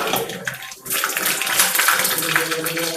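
Mustard seeds, two spoonfuls, crackling and spitting in hot coconut oil in a heated pan, a dense continuous hiss of frying with a brief dip near the start, close and fairly loud.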